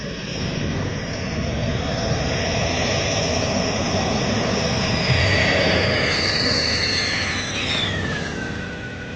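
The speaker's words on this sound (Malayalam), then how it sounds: "റഫാൽ യുദ്ധവിമാനങ്ങളിലെ ആദ്യ സംഘം ഇന്ത്യയിലെത്തി" A loud, sustained jet roar fills the scene, with a high whining tone sweeping past as a Rafale fighter jet passes overhead at Ambala air force base.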